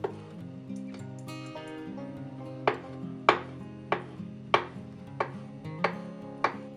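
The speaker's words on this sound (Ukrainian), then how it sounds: "нарізаємо кубиками яйце. Яйце має бути зварене вкруту." A knife taps sharply on a cutting board, cubing a hard-boiled egg in a steady series of chops, with soft musical tones playing underneath throughout.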